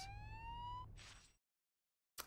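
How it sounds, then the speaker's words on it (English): In the Spider-Man 2 video game, an ambulance siren wails with a single rising tone that cuts off abruptly, followed by a short noisy burst, a silent gap, then a brief sound at the end. "It sounds like an ambulance is coming."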